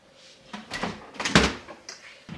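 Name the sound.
refrigerator drawer being opened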